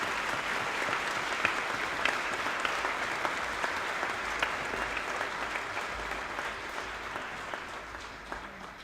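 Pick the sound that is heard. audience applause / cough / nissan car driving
audience applause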